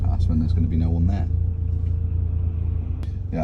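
A deep, steady exhaust rumble from a Toyota Celica with a large 4-inch exhaust tip runs throughout, loud and close, with a voice speaking briefly over it.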